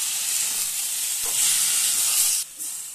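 Bottle gourd stems fry in a pan as a little water is poured in from the side, giving a loud, continuous steamy sizzle that drops slightly near the end.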